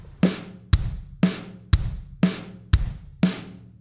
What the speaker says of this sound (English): So this that you're seeing is a standard kick snare pattern.